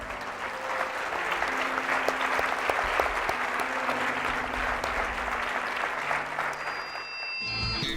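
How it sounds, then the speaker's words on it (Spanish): Church congregation clapping together after a closing prayer, a steady dense wash of applause filling the room, close and loud, with faint sustained musical tones beneath and a brief dropout near the end. "Dale palmas."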